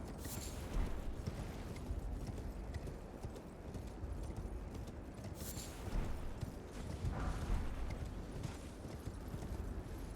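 Steady horse hooves clip-clopping in a video game, a continuous trotting rhythm at moderate loudness with a brief whinny-like flourish, no talk over it.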